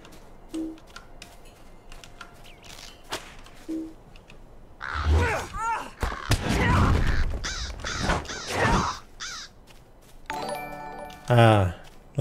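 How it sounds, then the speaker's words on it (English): Crows cawing in a video game, a few harsh caws scattered among game sounds, with someone talking loudly over much of it. "Nasty crows."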